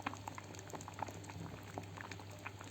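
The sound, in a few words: lentils boiling in water for Egyptian koshari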